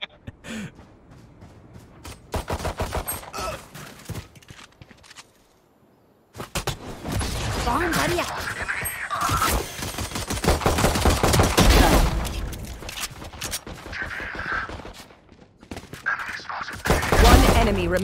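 Rapid bursts of video-game gunfire crackle and thump through a busy firefight, loud and close, with brief pauses between volleys and a short silent gap early on; game effects and voices mix in underneath.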